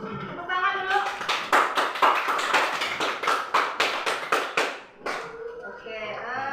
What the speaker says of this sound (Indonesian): Jom, tepuk tangan dulu.